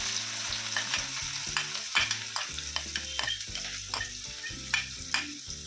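White parts of green onion frying in hot oil in a pan while being stirred, a steady sizzle broken by repeated scraping and tapping of a spoon against the pan.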